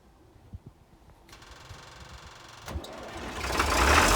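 A John Deere 6600 combine engine running roughly at full operating temperature, with a faint uneven rumble at first that grows louder and rougher as the throttle opens.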